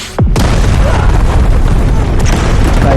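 An RPG rocket explosion in a film: a heavy boom bursts out after a brief moment, followed by a loud, sustained rumble and debris-like roar of a collapsing building that fills the rest of the clip.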